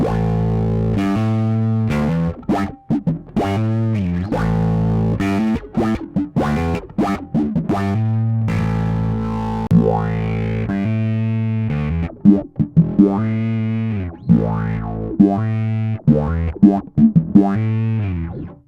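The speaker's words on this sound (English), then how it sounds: "envelope filter before fuzz, which is going to be more quacky" An electric bass plays a busy riff through an envelope filter placed before a fuzz pedal, each note swelling with a quacky, wah-like sweep, loud and distorted.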